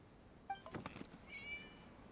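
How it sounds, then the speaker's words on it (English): A cat meows in Genshin Impact during the Irodori festival: a short, faint high call, a few soft bumps, then a second drawn-out meow, quiet and somewhat distant. "It was just a cat"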